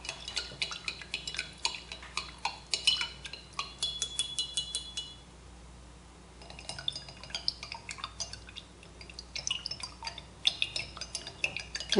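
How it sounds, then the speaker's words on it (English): Yarn being stirred in several small dye pots with a utensil, with repeated clinks, drips and clatter against the containers in two busy bursts around a quieter stretch, close and fairly faint. "I'm just going to go ahead and stir these up."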